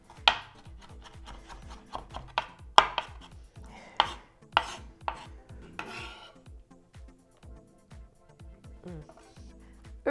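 A kitchen knife chops onions and peppers on a cutting board for Jamaican brown stew chicken, with a series of close, sharp, irregular chops that thin out toward the end.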